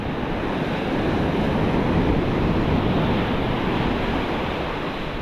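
Steady roar of ocean surf breaking on a beach where someone is fishing, a dense continuous wash with some wind noise, close and fairly loud throughout, no voices.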